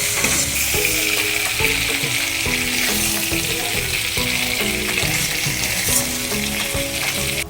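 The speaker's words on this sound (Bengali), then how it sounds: "মিডিয়াম আঁচে আমি প্রায় 2 থেকে 3 মিনিট চিংড়ি মাছগুলোকে ভেজে নিয়েছি" Prawns fry in oil in a pan over medium heat, producing a loud, continuous sizzle and crackle that runs unbroken for the whole stretch, with faint tonal background music underneath.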